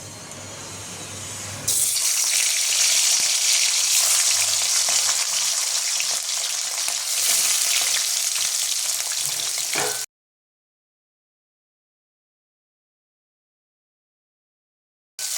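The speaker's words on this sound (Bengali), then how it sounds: "এবার আমি ওর মধ্যে সর্ষের তেল দিয়ে দেবো মাছ ভাজার জন্য" Fish pieces sizzle loudly as they drop into hot mustard oil, a bright steady crackle that starts abruptly after a quiet moment and runs for about eight seconds before cutting off, with no talking.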